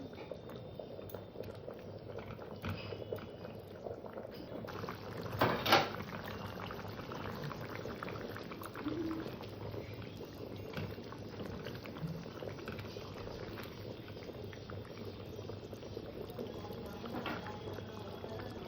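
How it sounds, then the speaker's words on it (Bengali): Shol fish curry with potatoes simmering in a pot, giving a soft, steady bubbling boil with a brief clatter partway through. "মাছটা দিয়ে আমি মিনিট দুই তিন ফুটিয়ে নেবো তরকারিটা যাতে মাছের স্বাদটা ঝোলে মেশে"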